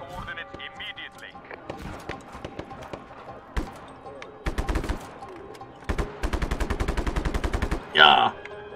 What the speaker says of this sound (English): Who's shooting at me from over there?